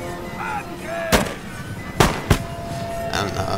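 Rifle and artillery fire in the battle game Napoleon: Total War: three sharp, booming shots about a second apart stand out over a low battlefield rumble, with faint tones and distant noise between them.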